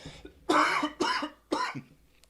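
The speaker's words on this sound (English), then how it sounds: "I just can't get over this cough." A man coughing three times in quick succession, harsh close bursts about half a second apart with a small throat noise before them.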